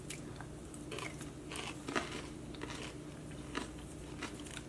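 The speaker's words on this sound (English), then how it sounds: "I was just sitting there munching." Crunchy munching and biting on food, close and quiet, with irregular crisp bites and chewing spread throughout and no talking.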